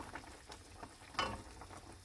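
Scrambled eggs go into a hot pan with leftover fried fish and fry with a soft, faint sizzle and light crackle, plus one brief sharper spatter near the middle, with no talking.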